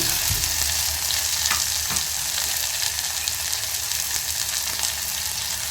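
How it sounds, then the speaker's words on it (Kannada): Onions with curry leaves frying in a pan, a steady dense sizzle throughout with a few brief scraping stirs, close and fairly loud with no talking. "ಚೆನ್ನಾಗಿ ಫ್ರೈ ಆಗಲಿ"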